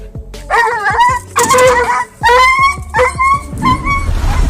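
A dog yelps and whimpers after an electric fence shock, a close, loud series of sharp high cries and yips that follow one another over a few seconds.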